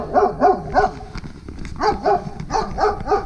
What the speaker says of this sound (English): Beautiful German Shepherd. Pretty eager guard dog.